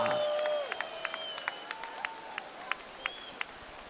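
A crowd at the Alaïa Bay wave-pool surf competition grand finals, Winter Cup 2022, cheers for the women's heat with scattered sharp claps and shrill whistles, fairly sparse and spread out over a few seconds.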